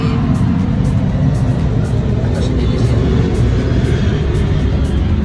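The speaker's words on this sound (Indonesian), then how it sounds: "ada pesawat melintas di atas rumah" Low, steady rumble of an airplane passing over a house, loud and continuous throughout, with someone speaking over it.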